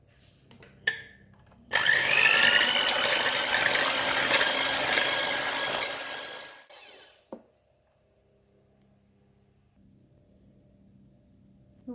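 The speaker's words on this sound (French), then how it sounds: "nous allons les monter en neige très ferme avec un fouet électrique" An electric whisk beats egg whites with a pinch of salt into very stiff peaks, a loud continuous high whir lasting about five seconds before cutting off, followed by a sharp knock and near silence.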